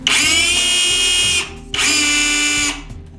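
A Crown cordless rotary hammer runs freely in two bursts of steady high-pitched motor whine, each over a second long, loud and close with a brief pause between.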